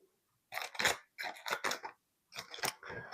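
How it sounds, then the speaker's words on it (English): Scissors snip and crinkle through a foil packet of grilled shrimp in a kitchen, in three short bursts of crisp cutting and rustling separated by brief silences, close to the microphone. "I think I'm going to cut it with a pair of scissors"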